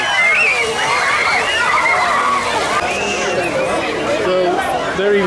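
A big blue water bucket at a park splash pad tips and pours, a continuous loud rush and slosh of falling water with children's shrieks and chatter throughout.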